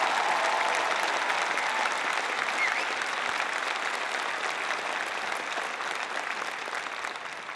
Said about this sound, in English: Would you give her a round of applause if you stand?